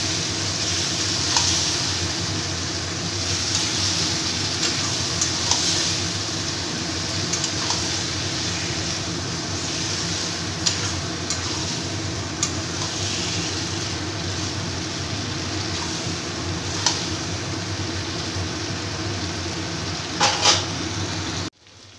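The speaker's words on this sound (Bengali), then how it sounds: "এবার আমি এই যে ম্যারিনেট করা মাংসটা দিয়ে দিচ্ছি। এটাকে ভালো করে এবার কষিয়ে নেব।" Marinated mutton for Bengali mutton kosha sizzles and fries steadily in oil in a pan, with a continuous hiss broken by scattered scraping stirs, fairly loud and close throughout, with no talk.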